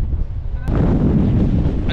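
Strong gusts buffet the microphone on the summit of Mt. Timbak during a storm, a loud low rumbling roar that grows heavier partway through and stays dense and continuous.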